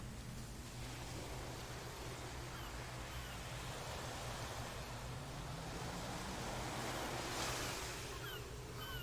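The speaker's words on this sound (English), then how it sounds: "The waves feel like a lullaby." Ocean surf in the video game Tales of Legendia: a steady, continuous wash of waves, broad and hissing, rolling without pause with no talking.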